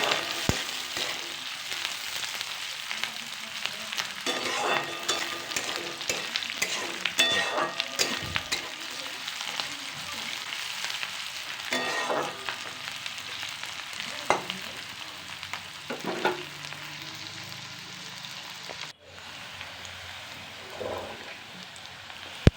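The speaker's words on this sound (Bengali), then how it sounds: "আলু পেঁয়াজ একসাথে ভেজে নেবো" Potatoes and onions frying together in a pan, a steady continuous sizzle with scraping stirring strokes throughout, close and fairly loud, no talking.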